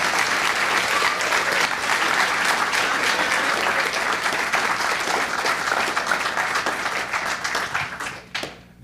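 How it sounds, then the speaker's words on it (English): A concert audience applauds high school graduates at an orchestra and choir concert, loud dense clapping sustained for several seconds before tapering off abruptly at the end. "So let's give them a round of applause for their accomplishments."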